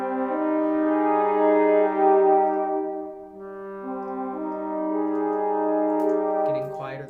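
Brass section of one trombone and two horns holds sustained chords, tones shifting partway through, with a brief noisy sound near the end.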